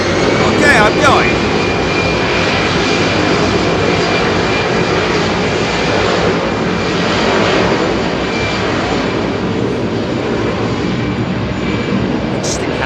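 Finnair Airbus A319 jet at Heathrow Airport, a steady, loud engine roar that holds through the whole stretch with a faint high whine, while people talk over it.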